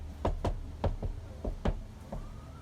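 Knuckles rap on a fiber cement or LP siding panel, about eight sharp, close knocks in uneven pairs and singles, each a hard hollow tap with a quick decay.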